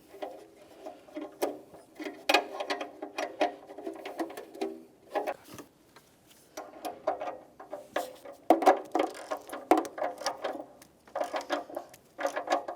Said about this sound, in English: we'll continue on with our O2 sensor socket.